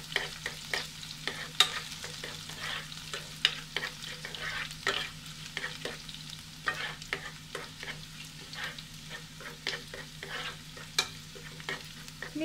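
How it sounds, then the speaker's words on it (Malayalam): Green beans, with the other ingredients for a beans thoran, are sautéed in a pan. A spoon scrapes and stirs them in frequent, irregular strokes over a constant soft sizzle, with no talking. "ലൈറ്റ് ബ്രൗൺ കളർ ആകണ വരെ നമുക്കൊന്ന് വഴറ്റി കൊടുക്കുക"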